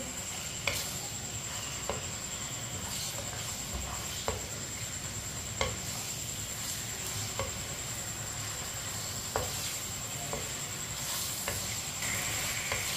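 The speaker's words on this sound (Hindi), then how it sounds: "गोश्त डालेंगे, मिक्स कर लेंगे।" Bone-in mutton pieces stirred into frying masala, a steady close sizzle under repeated spatula scrapes and soft knocks against the pot, continuous throughout with no talking.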